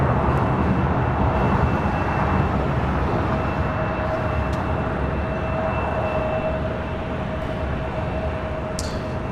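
A Boeing 737-800 takes off on runway 25 right at LAX, heading to Austin, its jet engines a loud, steady broadband roar holding nearly constant throughout with a faint whine riding on top.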